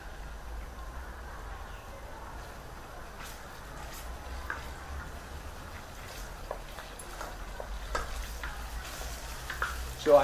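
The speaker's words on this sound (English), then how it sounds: "Chicken in. And stir it with your wooden spatula." Chicken leg meat sizzles quietly in a pan while being stirred with a wooden spatula for a Sichuan dish, a soft, steady crackle with faint scraping taps throughout.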